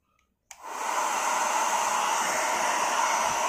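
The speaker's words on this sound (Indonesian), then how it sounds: "Kita coba untuk hair dryer ini." An inexpensive handheld hair dryer switches on with a sudden click and settles into a steady, loud whooshing blow that runs unbroken to the end, with no talk over it.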